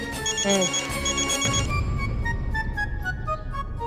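A telephone rings with repeated electronic trills, followed by a busy mix of background noise and faint voices as the ringing continues more softly.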